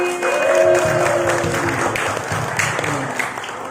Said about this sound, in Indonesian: Beri tepuk tangan untuk Mataram Udi.